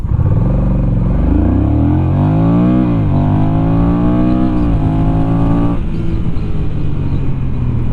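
A Honda CMX1100 DCT cruiser motorcycle launches hard from a standstill, its engine note climbing steeply through several automatic gear changes, each marked by a brief dip and rise, then easing off near the end; loud and close, no talk.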